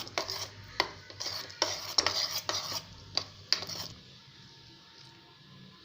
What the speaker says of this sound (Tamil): லைட்டாக ஒரு தடவை மிக்ஸ் பண்ணிவிட்டு ஸ்டவ் ஆஃப் பண்ணிடலாம்